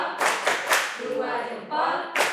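Rhythmic group clapping cheer at an Indonesian teachers' gathering, several quick bursts of hand claps in a patterned beat, fairly close and lively, with some voices mixed in.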